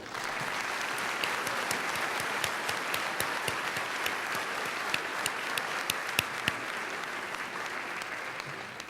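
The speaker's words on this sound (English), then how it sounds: "now you can applaud them all" A business event audience applauds the Strictly Business Committee at a JVS Toronto luncheon in 2005. The clapping is steady and dense and keeps up for nine seconds, heard from some distance, with a few louder individual claps standing out.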